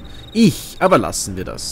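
Short, high buzzing chirps of a cicada come in bursts from the hidden-object game Mystery Case Files: 13th Skull, while someone talks over them.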